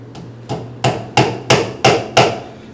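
A shoemaker's lasting pliers hammer taps shoe leather six times in a steady, quickening rhythm, each strike sharp and close with a short ring, over a low steady hum.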